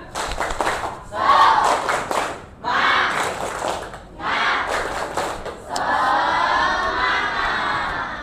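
A group performs a rhythmic clapping ice-breaker chant, bursts of claps and shouted voices in several short rounds separated by brief pauses, ending with a longer sustained crowd cheer; loud and close.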